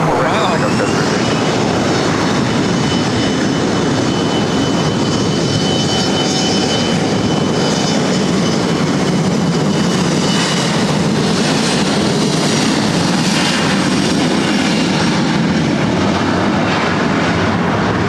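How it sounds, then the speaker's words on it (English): An Asiana Airbus A380 arriving on the north side at LAX rumbles as a loud, sustained broadband jet roar with a faint high whine that stays heavy throughout and holds steady with no break. "we're going to have 2 Asiana A380 arrivals here on the north side."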